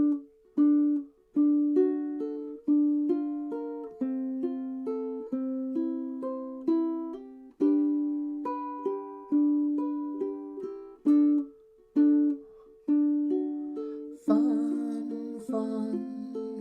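A solo ukulele plays a campanella-style chord melody of the bridge of a song, with clear plucked notes ringing into each other in a steady repeating rhythm, close and quiet, with a brighter strummed flourish near the end.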